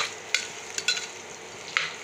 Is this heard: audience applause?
no